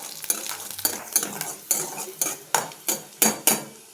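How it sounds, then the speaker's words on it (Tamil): Large garlic cloves frying in sesame oil in a kadai for garlic pickle, with a spoon repeatedly scraping and clinking against the pan in an uneven rhythm over a soft sizzle. "பெரிய பெரிய பல்லாக இருக்கிற பூண்டை இதில் போட்டு முதல்ல வறுத்து"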